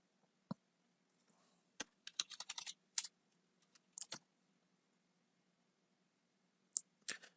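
Sparse bursts of typing on a computer keyboard, quiet and close, with short clusters of key clicks separated by pauses, no talking.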